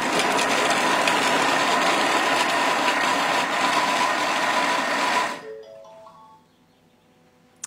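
Thermomix chopping pitted olives at speed 5, a loud steady whirring blade buzz lasting about five seconds before stopping abruptly and winding down to quiet.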